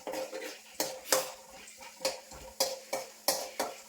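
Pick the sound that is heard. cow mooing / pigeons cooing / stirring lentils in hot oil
stirring lentils in hot oil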